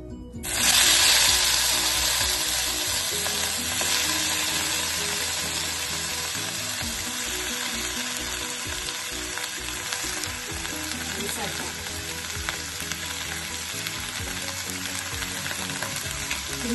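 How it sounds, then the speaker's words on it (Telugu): Eggplant (brinjal) pieces frying in hot oil for a ginger-chili curry give a loud, steady, dense sizzle with an initial burst as they go in, then a continuous crackling hiss with occasional stirring clinks, no talking. "ఇప్పుడు ఈ నూనెలోనే మనం వంకాయ ముక్కలు వేసేద్దాం."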